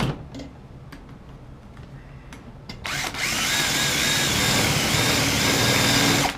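A few light ticks and clicks, then a power drill fitted with a freshly sharpened bit whirs up and keeps running at a steady high pitch.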